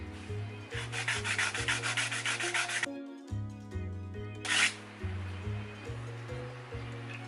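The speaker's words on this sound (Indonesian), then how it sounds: "Jadi ini yang hasil dari pengamplasan grid 150 ya" Hand plane iron rubbed by hand on 150-grit sandpaper, steady rhythmic back-and-forth scraping strokes, close and fairly loud, with a brief pause midway before the strokes resume.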